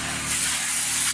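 Kitchen sink sprayer running water in a bath house plumbing setup, a steady close hiss of spray that holds for about a second without a break, with no voices.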